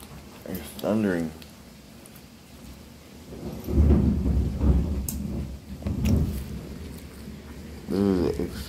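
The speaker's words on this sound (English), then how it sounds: "It's thundering." Thunder rolling during a storm, low rumbles swelling in the middle, heard beneath intermittent speech from a man nearby.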